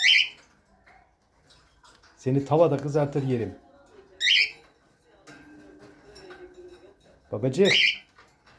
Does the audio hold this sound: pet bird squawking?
yes